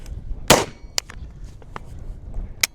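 An unsuppressed gunshot from a rifle normally run with a suppressor, fired outdoors: one sharp, loud crack followed by a few fainter clicks and ticks, with a second short crack near the end.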